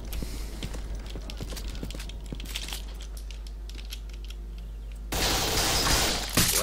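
Rapid gunfire from the video game STALKER Call of Pripyat with the MISERY mod, in a fast burst of sharp cracks at moderate volume. A louder, noisier wash takes over near the end.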